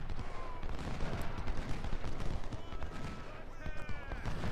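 Troops firing muskets in the Civil War strategy game Ultimate General: Civil War at the Battle of Mansfield, a continuous crackle of scattered gunfire volleys at moderate distance throughout.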